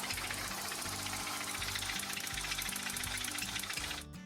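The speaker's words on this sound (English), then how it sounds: "This customer came in with their Hyundai saying they had quite the engine noise" A Hyundai car engine brought in for a noise complaint runs with a loud, steady mechanical clatter and a rhythmic knocking pulse throughout, ending abruptly near the end.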